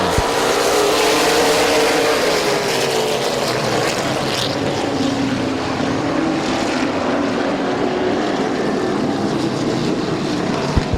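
A field of late model stock cars roars loudly and continuously at the green flag of an eight-lap heat race at Midvale Speedway, engines droning and rising together without a break.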